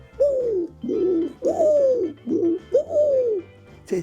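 Young pigeons lacking the white neck collar coo in a series of about six soft, rolling calls, each swelling and fading in an uneven rhythm. The birds are close, with no talk over them.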